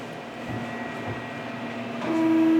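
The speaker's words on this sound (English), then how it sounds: "bring this back to the mixer." A large bakery dough mixer churns sourdough with salt spread on top, a steady low mechanical drone with faint rumbling bumps that swells louder toward the end as a sustained motor tone rises.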